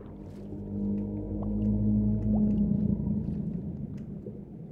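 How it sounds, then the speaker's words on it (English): In the Minecraft ocean, a low whale-like groan swells over a deep underwater rumble, with a few rising tonal moans, steady and fairly loud and heard alone, without any voices. "And as you just heard there are new ambient ocean sounds."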